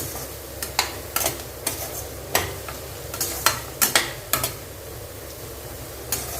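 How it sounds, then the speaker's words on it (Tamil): Grated radish and carrot are stirred and sautéed in a pan for pickle-making, with a soft steady sizzle under sharp, irregular scrapes and taps of the spoon against the pan, close and fairly quiet. "அந்த முள்ளங்கி கேரட் வெந்து வரணும் அந்த அளவு வதக்கி கொடுங்க"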